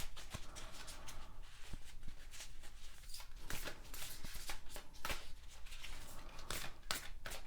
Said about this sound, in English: I feel like I need to shuffle it 3 more times.